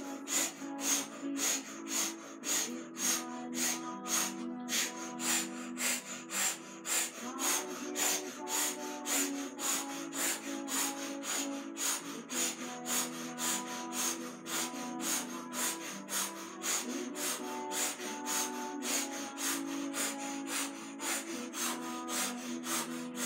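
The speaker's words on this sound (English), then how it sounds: "we're breathing in and out through the mouth" Steady rhythmic breathing in and out through the mouth during a yoga exercise, each breath a soft, airy, rasping rush repeating in an even pulse over about twenty seconds, close and quiet with no talk.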